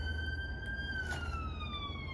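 A police siren wails in the distance on a London street, its pitch sweeping slowly downward over a steady low rumble of traffic, with no talk.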